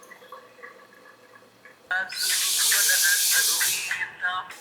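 A sudden loud, bright hiss of tempering spices dropped into hot oil bursts in partway through after quieter talk, sizzling steadily for a couple of seconds before easing off.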